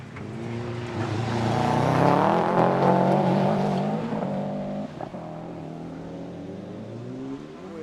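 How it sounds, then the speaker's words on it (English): A Subaru Impreza rally car's engine revs hard and climbs through the gears, its roar swelling and then fading as it pulls away into the distance. "going away from us into the distance in that Impreza"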